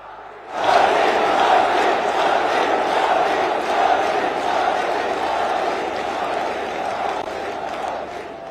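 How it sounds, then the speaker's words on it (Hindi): A large crowd at a public speech at Mahakal Lok bursts into loud clapping and cheering, with shouts over sustained applause that hold steady for several seconds and slowly ease off. "एक बार दोनों हाथ ऊपर उठा के तालियां बजा के स्वागत कीजिए।"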